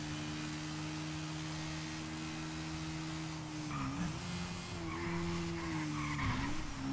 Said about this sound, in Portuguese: Vamos acelerar a bichona.